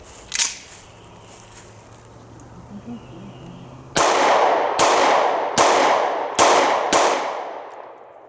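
Five sharp, loud gunshots from a Taurus G3C pistol loaded with Fiocchi brass-case ammo, spaced about a second apart, each with a ringing decay, after a quiet stretch.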